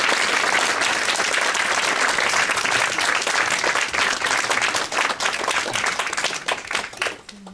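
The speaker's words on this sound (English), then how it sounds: "Give them a round of applause." Loud, dense audience applause fills a hall during a political dialogue event on Israel-Palestine, sustained clapping that thins and fades near the end.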